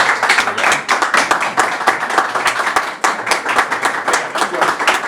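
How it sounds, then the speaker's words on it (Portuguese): Clapping greets a businessman arriving as the first guest of a talk show, a loud, fairly close burst of hand claps with a choppy, uneven rhythm that carries throughout. "Eu quero aplaudir de pé"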